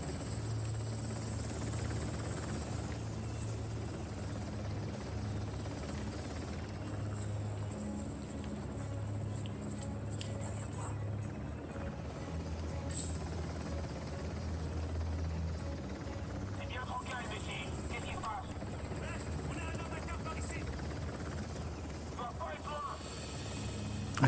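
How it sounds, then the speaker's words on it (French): A helicopter in the action video game Uncharted: The Lost Legacy holds a steady rotor drone throughout, with game effects scattered over it and a voice talking at times. "Je vais te la battre, mon hélico."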